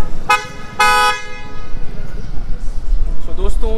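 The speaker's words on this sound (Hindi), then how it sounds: "तो मैं आपको हॉर्न भी सुना देता हूँ।" A BMW i8 horn honks twice, a short blast and then a longer one, loud and close, followed by quieter background noise.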